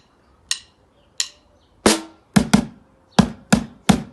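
Samba percussion break played as eight sharp, close strikes in an uneven rhythm, starting sparse and then coming in a quicker cluster of hits, with no talk over them.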